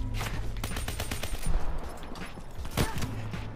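Video game gunfire in a multiplayer shooter: a dense, rapid burst of automatic shots fills the opening, followed by scattered single cracks and a sharp, louder shot near the end, with low game ambience underneath.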